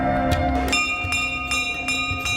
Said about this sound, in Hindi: घंटियां बजाकर यहाँ हर कोई माँ को अपनी कामना बताता है